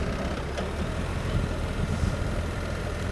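BMW R1300 GS Adventure motorcycle on a ride, a continuous low exhaust rumble mixed with wind noise, steady and fairly loud with no speech.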